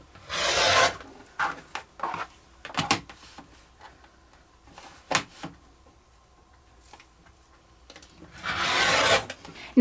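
Rotary cutter slicing fabric along a ruler to make party napkins, with rasping, rubbing strokes at the start and the end of the clip and softer scrapes and taps between them.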